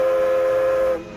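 A steam locomotive whistle sounds one sustained, steady blast lasting about a second before cutting off abruptly, loud and close with no talking.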